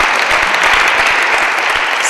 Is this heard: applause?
yes